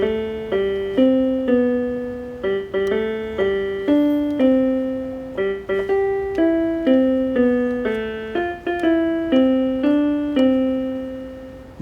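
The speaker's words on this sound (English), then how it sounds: "And it sounds like this on piano." Happy Birthday played on piano in three-beat time, each struck note ringing and fading in a steady melodic line, close and clean with no talking, finishing on a held final note.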